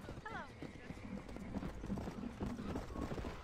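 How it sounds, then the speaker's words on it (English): Horses trot in the Red Dead Redemption video game, with a soft, steady clip-clop of hooves in quick rhythm under faint background sound, brief voices and a light chime. "These are fine horses."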